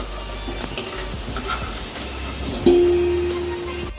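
Potatoes frying in oil: a constant, close sizzle and hiss with a brief stirring clatter partway through.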